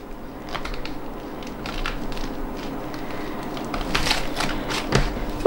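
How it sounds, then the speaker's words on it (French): Scissors glide through a sheet of crystal-clear plastic to trim off the excess while sewing a transparent toiletry bag, giving a soft, continuous scraping and crackling with small clicks, close and fairly quiet, with no talking. "je vais simplement faire glisser mes ciseaux"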